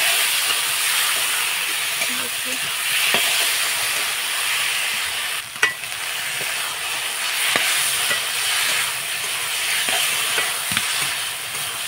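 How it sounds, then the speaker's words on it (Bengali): Marinated potatoes and lentils are tipped into a hot pan and given a brief stir, producing a steady, loud hiss of steam and sizzling with a few scattered clicks and scrapes, and no talking. "আলু আর ডালটা ম্যারিনেট করে রেখেছি এটা আমি এর মধ্যে দিয়ে দিই। এটা দিয়ে একটু ভালোভাবে বেশিক্ষণ না, দিয়ে এক নাড়া দিয়ে"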